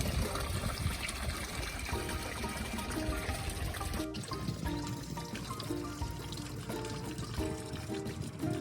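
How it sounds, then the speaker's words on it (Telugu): Wash water pours and trickles steadily out of a boat being cleaned in Qatar, a continuous close splashing flow that thins somewhat midway, with no talk. "ఆ వాటర్ అంతా బయటకు వచ్చేస్తుంది."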